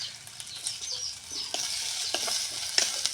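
Chopped tomato is stirred into onions frying in a pan, with a soft background sizzle broken by irregular scraping strokes and clinks of a spoon, fairly close and moderately quiet.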